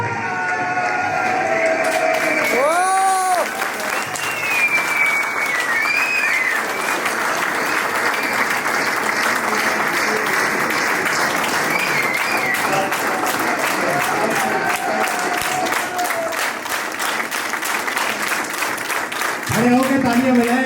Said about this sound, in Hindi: जोरदार वाली तालियां